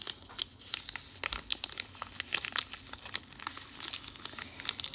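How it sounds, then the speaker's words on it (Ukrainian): A packet of vanilla sugar handled and opened while brownies are being made: close, busy paper crinkling and rustling with sharp crackles and a tearing quality, nonstop for several seconds with no talk. "Далі нам треба один пакетик ванільного цукру."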